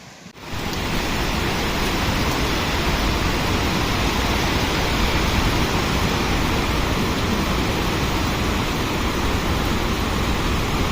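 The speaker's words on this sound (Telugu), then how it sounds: "ఇది మాత్రం పెద్దగా ఉంది వాటర్ ఫాల్" A large waterfall at Harishchandragad pours in heavy monsoon rain, and after a short quiet start its loud, constant roar of rushing water takes over and holds steady to the end, with no talking.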